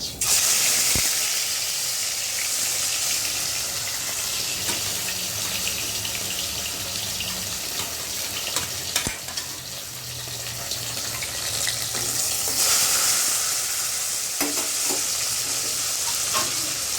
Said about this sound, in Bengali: মাছগুলো আমার ভাজা হয়ে গেল